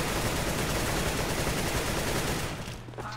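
Sustained loud gunfire from Counter-Strike: Global Offensive, a dense burst of rapid shots rolling on for nearly three seconds before dropping away abruptly.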